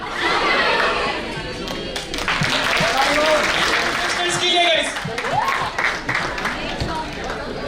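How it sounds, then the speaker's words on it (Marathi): Steady applause from a crowd at a youth festival talent show fills the whole stretch, with a voice talking over the clapping and a few cheers mixed in. "फक्त टाळ्या वाजव"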